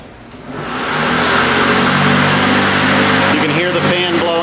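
A battery-powered fan ramps up into a loud, steady whooshing roar of turning blades, close and continuous, with a voice briefly heard near the end.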